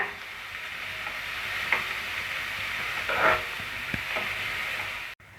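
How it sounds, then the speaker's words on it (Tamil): Onions fry slowly in a pan on a low flame for a chicken curry, giving a constant sizzle with occasional stirring scrapes and taps. "வெங்காயம் கோல்டன் ஃப்ரை ஆகிற வரைக்கும் வதக்கி விட்டுட்டே இருங்க"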